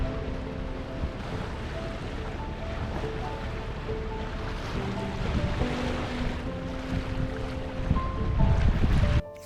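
Sailboat motoring up the Rio Dulce river in eastern Guatemala: a continuous low hum of the hull and motor with water rushing past and wind buffeting, steady and close, growing louder toward the end.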